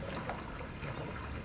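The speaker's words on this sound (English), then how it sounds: "And why is that bubbling?" Faint, soft water sounds in Resident Evil 7: gentle trickling and light bubbling, low and continuous, with no voices.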